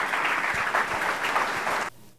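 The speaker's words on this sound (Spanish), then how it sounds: "les pido un fuerte aplauso para" An audience at a business talk on infrastructure megaprojects gives the panel guests a warm round of applause, steady clapping that carries on for nearly two seconds and then cuts off abruptly.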